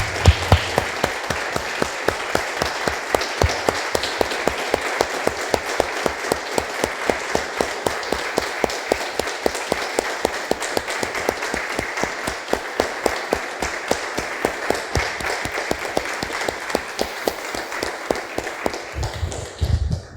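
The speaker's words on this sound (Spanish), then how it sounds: "Damos un aplauso, hermanos, al Señor" A church congregation claps in unison at a steady, even rhythm to praise the Lord, a long run of rhythmic claps filling the room before it tapers off at the end.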